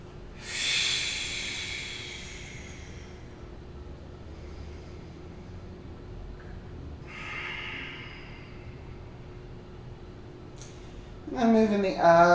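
During a gentle yoga movement, slow audible breaths come close and clear: a long airy inhale or exhale near the start and another softer one later, over quiet room hum, with a voice speaking at the end.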